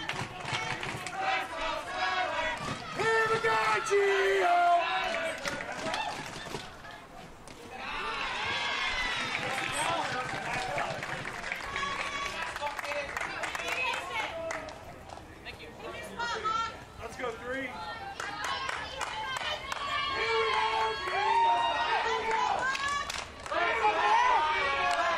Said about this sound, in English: We have competing cheering sections.